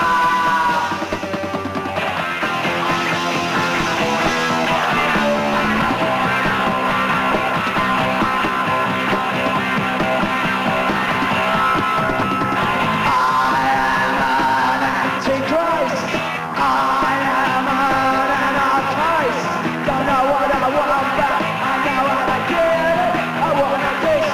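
A band warming up in a live television studio setting: dense, loud band noise with guitars, drums and shouting, continuous and full throughout, with crowd yells mixed in.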